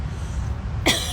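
A single sharp cough bursts out near the end, loud and close, after a stretch of quiet background hum.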